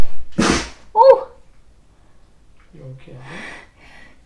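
A single sharp sneeze bursts out near the start, followed by a short nasal sniff or snort, then quiet and some distant mumbling toward the end.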